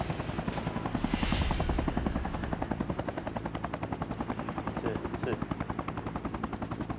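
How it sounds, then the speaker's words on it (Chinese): An armed military helicopter's rotor thuds in a fast, steady rhythm, loud and close, with a brief burst of other noise early on. "老共武装的直升机要来了"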